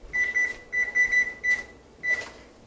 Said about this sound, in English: I'm gonna set the timer for 6 minutes for this